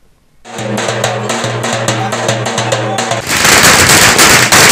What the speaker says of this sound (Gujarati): પાટણ જિલ્લા આરોગ્ય કર્મચારીઓ હડતાલ સમેટી ફટાકડા ફોડી ઉજવણી કરી હતી